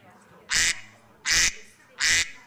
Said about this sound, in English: Who can hear the duck? Can anybody hear the duck?